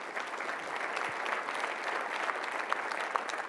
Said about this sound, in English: those were 2 excellent presentations and deserve another round of applause for both of them